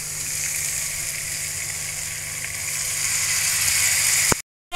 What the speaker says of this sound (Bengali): এখন আমি এটার ভিতর দিয়ে দিব পানি, পরিমাণ মতো পানি।